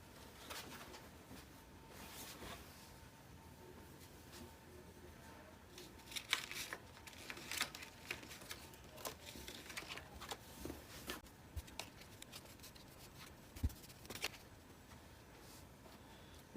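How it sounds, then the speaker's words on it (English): Scissors snip through dress fabric laid over a paper pattern for a jacket dress, giving soft, irregular clicks and crisp cuts, close and moderately quiet over a steady background hum, with no talking. "So let's go ahead and cut it out on our fabric"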